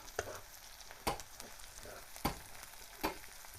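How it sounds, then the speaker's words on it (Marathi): Onion and garlic frying in a pan for an Indian tempering, a soft steady sizzle punctuated by four sharp stirring or scraping clicks at close range, with no voices. "लसूण आहे त्याच्यामध्ये चांगला परतावून घ्यायचा"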